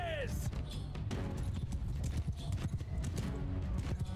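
Horses in the Mount & Blade II Bannerlord battle game, played with the Eagle Rising Roman mod, clatter in a busy stream of hoof clops, with a brief whinny under battle noise and a voice talking.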